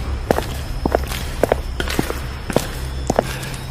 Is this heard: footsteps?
yes